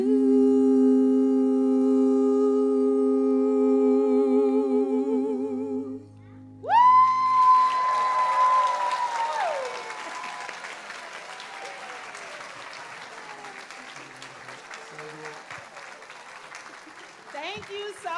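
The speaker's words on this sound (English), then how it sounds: "Give them another round of applause." After a sustained sung note from the Lion King cast at MLK Library, an audience breaks into loud applause and cheers that continue steadily, then slowly thin out.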